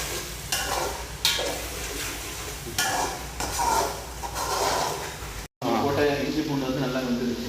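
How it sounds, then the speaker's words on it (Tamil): Ginger garlic paste frying over a low gas flame for chicken biryani, a steady soft sizzle broken by repeated stirring scrapes and clinks of a spoon in the pan, with a person talking over it. "இப்போது இஞ்சி பூண்டு பேஸ்ட் போட்டோன்னே நம்ம எப்பயுமே கேஸை கம்மியாக வச்சிடணும், இல்லைன்னா அது உடனே அடி பிடிக்கும்."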